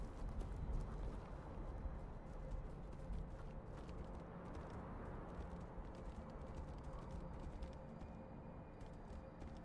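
Horse hooves clip-clopping in the Tainted Grail: Fall of Avalon video game, a steady continuous patter under dense ambient game sound, moderately loud throughout.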